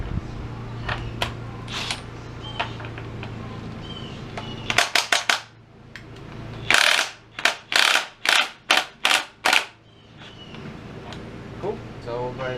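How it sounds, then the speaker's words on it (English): Impact wrench removing the rear wheel nut on a 2015 Honda CBR600RR, two series of loud rapid hammering bursts with brief pauses between them, with a person talking before and after. "I am using an impact."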